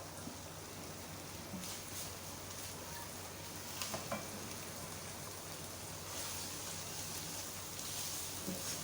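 Ingredients for macaroni keema, including garlic, sizzle steadily in hot oil in a pan, a soft continuous crackling hiss with occasional stirring scrapes, heard close and alone.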